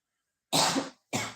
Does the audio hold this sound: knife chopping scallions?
no